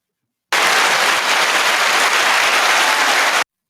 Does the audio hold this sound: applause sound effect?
yes